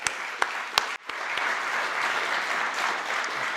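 An audience breaks into applause, a few sharp separate claps at first, then swelling into sustained, even clapping from many people that carries on to the end.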